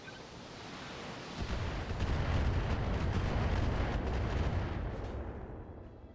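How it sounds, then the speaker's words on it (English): Mech in BattleTech launching a full missile salvo, a dense rumbling barrage of launches that swells after a second and rolls on heavily for several seconds before easing off, with no voices. "Behemoth can probably get a knockdown on the dragon. Firing a full salvo."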